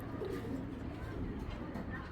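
Kach Bhanga pigeons, an old breed, coo softly at a farm, their low murmuring calls faint beneath a man's speech.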